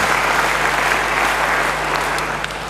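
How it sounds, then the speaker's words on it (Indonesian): A church congregation applauds during a sermon, a steady wash of many hands clapping together at moderate volume for a few seconds, with no speech over it. "Beri tepuk tangan yang baik bagi dia."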